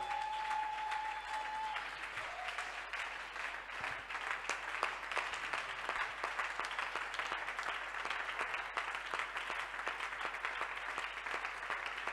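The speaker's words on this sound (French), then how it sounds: "Est-ce que tu peux acclamer pour le Seigneur?" A church congregation claps loudly and continuously, dense applause from a crowd that stays steady throughout, with a brief tone at the start and no clear voices.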